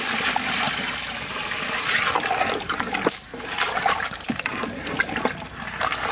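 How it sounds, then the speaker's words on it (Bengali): Water is poured into a pot of goat meat curry with potatoes cooking in a village setting, giving a rushing, splashing pour that continues for several seconds at close range. "দিয়ে দিলাম জল"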